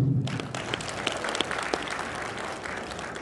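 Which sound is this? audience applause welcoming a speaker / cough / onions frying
audience applause welcoming a speaker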